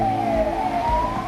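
A loud ambulance siren wails on a steady, slowly sliding tone over the rumble of the moving ambulance on the road.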